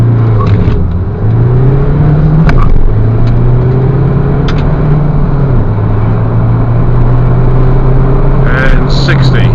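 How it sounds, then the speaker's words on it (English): A 2005 Ford Mondeo ST TDCI 2.2 diesel with a six-speed manual, heard from inside while accelerating from 0 to 60. A loud, steady engine drone rises through gear changes with brief dips between them, and a voice talks over it. "I'm going to do a 0 to 60 test now."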